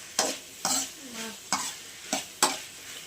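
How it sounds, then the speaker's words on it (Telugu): Okra fries in oil for a curry, with a soft steady sizzle broken by five scraping stirs of a utensil in the pan at an even rhythm, close and fairly quiet. "బెండకాయ జిగురుగా అనేది రాదు, ఎందుకంటే ఆయిల్తో పాటు ఫ్రై అవుతుంది కాబట్టి"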